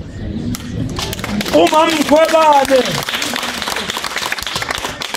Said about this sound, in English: We must clap hands from Mpumalanga.